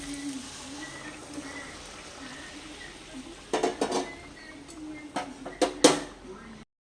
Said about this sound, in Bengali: এবার আমি সেদ্ধ ডালটা এর মধ্যে ঢেলে দিচ্ছি